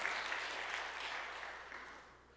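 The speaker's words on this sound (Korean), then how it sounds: "다시 한번 우리 감사와 격려의 박수를 좀 보내주셨으면 좋겠습니다." A church congregation applauds together, a dense wash of clapping from many hands that starts full and gradually fades away.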